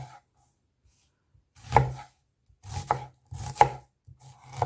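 Knife chopping an onion into pieces on a cutting board, a few separate close, crisp thuds spaced about a second apart with quiet gaps between, no talk.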